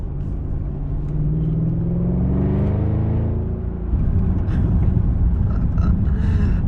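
An Audi S8 D4 sports sedan engine revs up with rising pitch in dynamic mode, then shifts into a louder, rougher rumble as it keeps accelerating hard.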